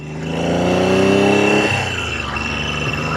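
A Triumph T160 Trident motorcycle engine runs loudly and close after an electric start, with a steady rumbling idle and a rising rev before settling back, no voices over it.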